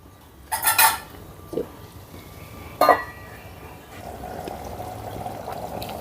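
A spoon clinks against a pot while an eggplant and potato curry is stirred, followed by a lid clattering shut and a low, steady simmer that continues afterward.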